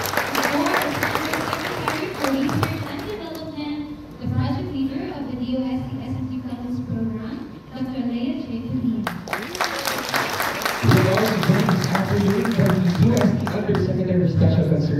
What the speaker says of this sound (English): Let's give him our round of applause.